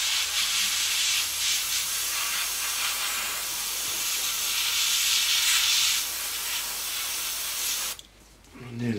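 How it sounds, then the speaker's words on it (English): Steady airbrush hiss of paint spraying onto an Airfix 1/72 McDonnell Douglas Phantom FG1 model kit, close and continuous for several seconds, then cutting off abruptly near the end. "Spraying it all up."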